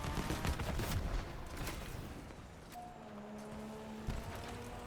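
Rapid gunfire from vehicle-mounted guns in the Crossout combat game, a dense burst of shots near and loud at first, then thinning into a steadier mechanical drone with occasional sharper cracks.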